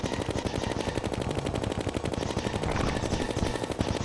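Rapid automatic gunfire from a weapon with infinite ammunition in the Terraria video game during a solar eclipse event, a dense continuous stream of shots running loud and steady throughout.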